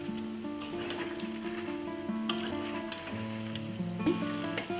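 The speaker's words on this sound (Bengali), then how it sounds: "বড়াটা এক পিঠ হয়ে গেছে, এবার আমি বড়াটা উল্টিয়ে দিচ্ছি।" Urad dal rasbora fritter turned over in hot frying oil: a continuous, close crackling sizzle with a sharper spatter burst near the end, steady in level and free of speech.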